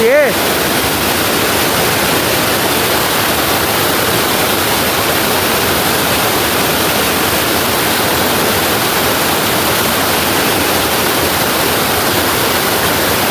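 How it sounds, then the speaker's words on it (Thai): Sap Sa Kaeo waterfall, also called Chim Yai waterfall, in Bueng Sam Phan, Phetchabun, Thailand, roars steadily and loudly as a dense, unbroken rush of falling water, close by and continuous throughout. "น้ำตกจิ้มใหญ่ หรือ น้ำตกซับสาแก้วนะครับ"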